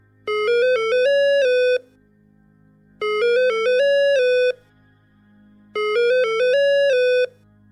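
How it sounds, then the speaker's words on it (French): A telephone at a nursing home rings unanswered: three bursts of an electronic melodic ringtone, each about one and a half seconds, with short pauses between, loud and close, no voices. "Le téléphone de l'EHPAD sonna dans le vide."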